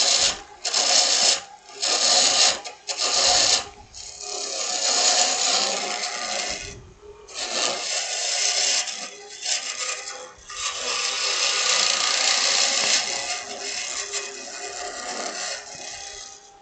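Woodturning lathe cutting a wooden snowman, the gouge rasping and hissing in long bursts with short breaks, close and fairly loud, with no talk over it.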